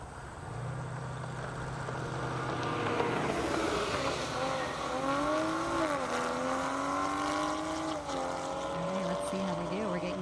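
A 2022 and a 2020 Toyota Supra drag racing side by side on a half-mile airport strip, engines roaring and rising in pitch through the gears, heard from a distance under a commentator's voice.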